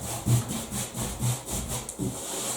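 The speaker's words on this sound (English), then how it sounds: "So I'm just going to dust it off now using my dusting brush." Dusting brush swept across a freshly hand-sanded surface of silk emulsion paint, giving about four rhythmic, close bristle strokes that rasp and swish with no talking.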